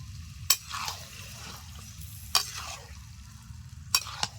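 Potatoes stir-frying with chicken, capsicum and chui jhal in a pan: a low, steady sizzle with three sharp spatula scrapes spaced a couple of seconds apart.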